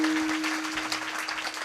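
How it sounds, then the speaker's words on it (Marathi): An audience at a Marathi kirtan in Balapur, Sambhajinagar claps together, a brisk patter of many hands held steady beneath a faint sustained tone, moderately loud and continuous. "एकदा टाळी वाजव सर्वांनी."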